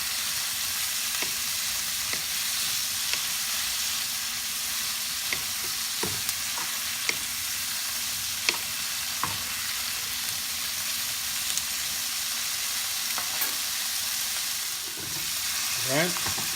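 Salmon belly and vegetables fry in butter in a pan: a constant, close sizzle with scattered scrapes and clacks from stirring.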